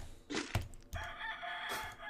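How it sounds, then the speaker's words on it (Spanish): A neighbour's rooster crows at night, giving two close, loud cock-a-doodle-doo calls with a short gap between them and no voices over them. "¿Qué hace cantando a la 1 de la mañana ese gallo, gente?"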